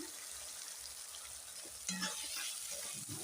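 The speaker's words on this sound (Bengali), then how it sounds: "ভালো করে নেড়ে দিচ্ছি।" Food being stirred in a frying pan after salt is added, a faint steady sizzle with soft scraping strokes that grow louder partway through, close up and without speech.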